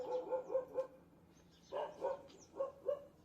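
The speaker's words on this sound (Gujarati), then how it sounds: "કૂતરા" A dog barks about eight times in short bursts of two to four, with pauses between them. The barks are moderately distant and fairly faint against a quiet background.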